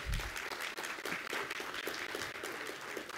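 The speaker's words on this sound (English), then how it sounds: "Please let's give Minister Marshall another round of applause." An audience applauds a government minister at the end of a live-streamed conference presentation, steady dense clapping from a sizable crowd filling the room for the whole stretch.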